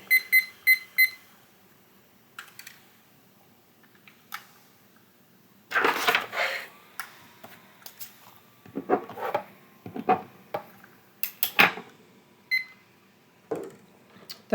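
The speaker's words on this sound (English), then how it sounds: "Once the timer rings, press stop" A timer alarm rings at the start in three quick repeated bursts of bright beeping, loud and close, followed by intermittent clatter and handling sounds.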